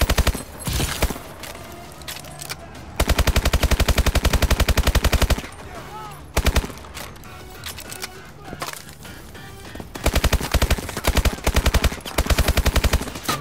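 Call of Duty: Advanced Warfare campaign firefight with loud, rapid automatic gunfire in several sustained bursts separated by quieter stretches of scattered shots and battle noise. No voices.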